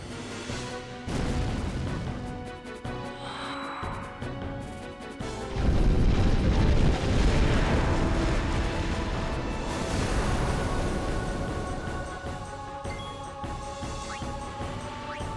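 A fire spell bursts in a Final Fantasy X battle as a loud, sustained blast that swells suddenly and roars for several seconds over game music before slowly easing off, with no one talking.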